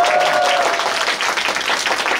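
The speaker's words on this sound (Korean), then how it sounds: "박수로 박수 치세요." A concert audience breaks into applause, a dense, continuous wash of many hands clapping at close range, with a brief sustained tone at the start and crowd noise blended in.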